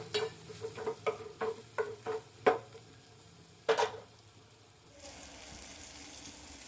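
Okra frying in a pan with curry leaves for a tamarind okra curry, a low steady sizzle broken by a run of sharp spoon scrapes and stirring knocks, close and fairly quiet, then a softer hiss at the end.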